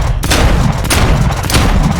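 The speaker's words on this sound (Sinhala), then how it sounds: "මම වෙඩි තියනවා උන්ට" Rapid, loud bursts of gunfire in the zombie video game Dead Island 2, shots cracking back to back close up for the whole stretch.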